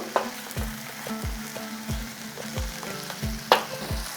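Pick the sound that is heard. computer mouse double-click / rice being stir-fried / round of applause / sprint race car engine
rice being stir-fried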